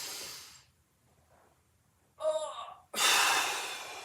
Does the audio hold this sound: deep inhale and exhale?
yes